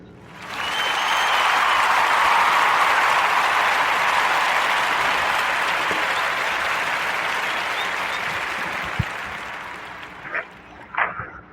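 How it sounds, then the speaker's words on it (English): Podcast audience applause for performer Jay Hughes's beats, a broad steady wash of clapping that swells quickly, holds for several seconds, then thins and fades, with a few scattered claps and knocks at the end. "Join me in giving Jay Hughes a warm narrative podcast round of applause for his beats he's performed"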